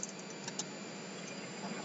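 Someone types steadily on a computer keyboard, filling in a web form, with a fast run of light, close key clicks over a quiet room hum.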